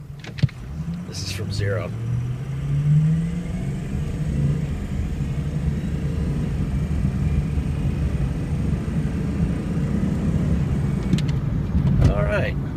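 A 2003 Ford F250 diesel 4x4 truck idles with a steady low rumble from inside or near the cab, continuous throughout, while someone talks briefly at the start and end.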